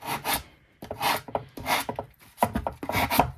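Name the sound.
sanding paper with sandpaper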